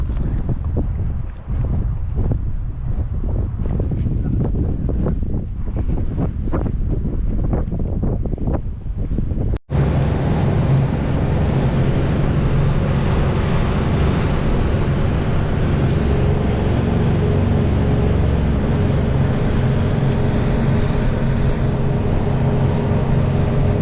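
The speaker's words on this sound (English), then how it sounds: "Boat is speeding up now" A small motorboat speeds across open water near Bahrain, with gusty wind buffeting the microphone and waves slapping the hull; after a sharp break the engine roar and rushing water grow louder and steadier throughout.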